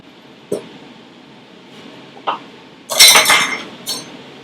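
Dishes and cutlery being tidied in a home kitchen after cooking pasta, a few scattered clinks and knocks followed by a louder clattering burst of metal and crockery, then one more clink.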